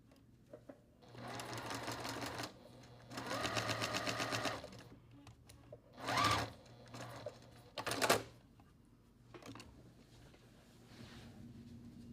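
A sewing machine stitches a quilt block in two sustained runs of steady mechanical whirring, then gives a few short bursts. A background hum continues between the runs.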